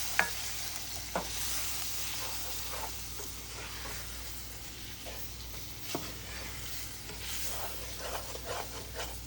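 Flour and oil cook together as a roux in a pot, giving a soft, steady sizzle while a spoon scrapes and stirs, with occasional sharper clicks against the pot.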